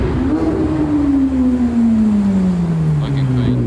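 A Ferrari supercar drives past at a supercar gathering, its engine note sliding steadily downward in pitch as it passes close by, loud and continuous, with crowd noise in the background.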